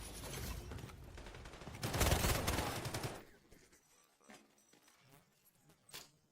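Gunfire in the Delta Force video game: a dense, loud burst of automatic shots for about three seconds, then sparser, quieter single shots and distant pops trailing off.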